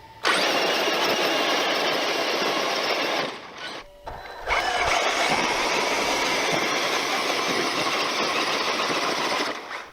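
Two large RC monster trucks, a Traxxas X-MAXX and a UDR, run together with a loud, sustained high-pitched electric motor whine, briefly dipping and cutting out midway before resuming at full strength.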